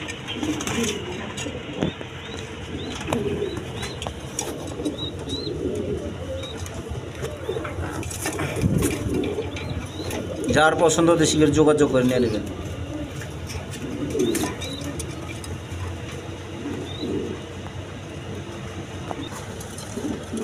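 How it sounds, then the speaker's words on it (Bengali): King pigeons coo in low, repeated throaty calls across a pen, steady and close, while someone talks over them throughout. "শৌখিন ক্যাটাগরি কিং কবুতর দেখেন"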